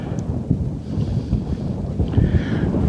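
Desert wind blows across the microphone as a continuous loud, gusty rumble that surges and fades over a few seconds, with no other sounds.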